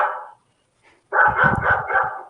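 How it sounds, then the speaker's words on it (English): A dog yips and barks in the livery, starting with a short bark, then a pause, then a loud close burst of rapid yipping barks. "A flurry of yipping barks erupted from below in the livery."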